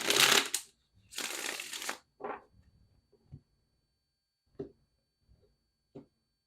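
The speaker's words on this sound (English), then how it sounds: "All right, one more shuffle." Two quick riffle shuffles of a tarot card deck, close and crisp, followed by a few soft taps as the cards are squared and set down.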